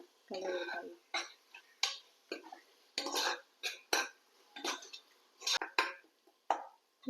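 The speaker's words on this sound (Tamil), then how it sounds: "இப்போ நம்ம இது எல்லாத்தையும் சேர்த்து நல்லா கிளறி விடலாம்." A spoon stirs a Chettinad mushroom biryani masala of mushroom, onion and tomato in a pot, making about a dozen separate scraping, clinking strokes in an uneven rhythm, fairly close and quiet.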